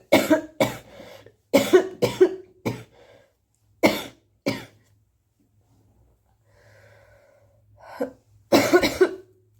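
A woman coughs in sharp, close bursts, some in quick pairs and clusters, separated by quiet pauses with faint breathing and a soft murmur.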